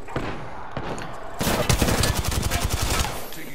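Rapid bursts of gunfire in the video game Apex Legends erupt after a quieter stretch, dense repeated shots continuing loudly to the end.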